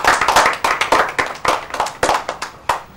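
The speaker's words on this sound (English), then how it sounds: "Okay, clap for her." Clapping for a student in a classroom: a short burst of brisk, close hand claps, a few people clapping in a quick uneven rhythm, with no talking.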